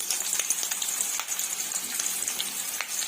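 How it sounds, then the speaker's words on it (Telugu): Chopped onions and mustard seeds fry in hot oil, giving a steady, close hiss of sizzling with small popping crackles throughout. "ఆవాలు కూడా వీటెక్కిన తర్వాత కట్ చేసి పెట్టుకున్న ఆనియన్స్ యాడ్ చేసుకుందాము"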